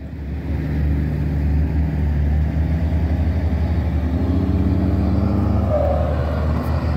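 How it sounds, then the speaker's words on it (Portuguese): Heavy engines rumble steadily and continuously at a hillside earthworks site for a residential condominium, where trucks are being loaded with soil for hauling; a loud, unbroken low drone with no talk. "os caminhões sendo carregados"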